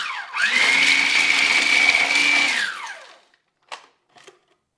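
A kitchen blender whirs through a chicken nugget mixture in one loud burst of about three seconds, its motor pitch steady, then winds down, followed by a couple of brief clatters.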